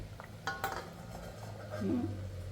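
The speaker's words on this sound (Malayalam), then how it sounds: "ഇനി ഇത് തീ കുറച്ചിട്ട് കുറച്ച് സമയം ഒന്ന് മൂടി വയ്ക്കാം" A metal lid is set over a cooking pot of simmering snake gourd curry, giving a couple of sharp clanks and clinks followed by a softer rattle as it settles.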